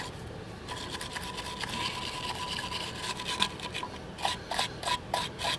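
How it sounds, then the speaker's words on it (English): A stainless steel wire brush scrubs the rusty build-up off a 2008 Saturn Vue rear brake hub, giving a steady close rasping that turns into short, separate hard strokes toward the end. "Take a stainless steel brush to it."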